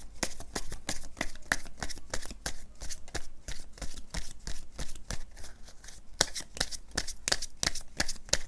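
Tarot cards shuffled in a steady, rapid rhythm of crisp riffling snaps, close and fairly quiet, with no talking.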